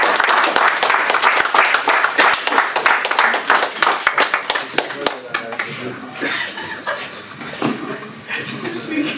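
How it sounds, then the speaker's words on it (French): An audience applauds at an inauguration event in Paris, a dense burst of clapping that thins out into scattered claps, with voices and murmurs underneath as it fades. "que je vous demande d'applaudir très fort"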